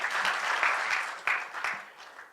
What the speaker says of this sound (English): let's give a big round of applause to Dubai real estate market.